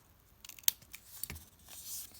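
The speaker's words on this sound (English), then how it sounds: "I'll take my precision scissors and just cut like a tail" Precision scissors cutting a paper craft strip, a few quiet, crisp snips close by, with rustling paper between them.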